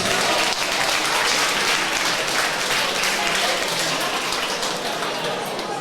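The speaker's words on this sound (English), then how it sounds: "ladies and gentlemen, give your applause to his opponent, Aaron Braid." Dense, steady applause from the crowd at a boxing club home show fills the hall after a decision, a loud unbroken wash of clapping that holds its level throughout.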